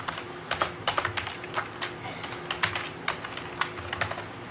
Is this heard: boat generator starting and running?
no